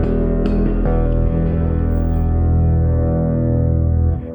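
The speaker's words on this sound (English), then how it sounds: "So the mallet is going to sound like this." A dark ambient instrument struck with a mallet produces a dense, loud, resonant drone, with low rumbling overtones that swell and hold steadily before cutting off.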